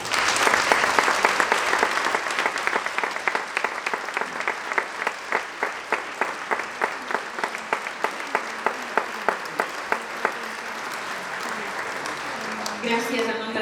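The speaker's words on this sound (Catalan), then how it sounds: "demano un sincer aplaudiment d'escalf i suport." An audience applauds at the opening proclamation of the 175th Candelera fair, offering warm support for flood victims: sustained, dense clapping that thins into distinct rhythmic claps near the end, then fades out.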